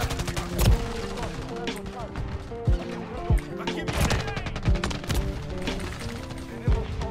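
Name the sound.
grenade explosion and gunfire in video game Modern Warfare 3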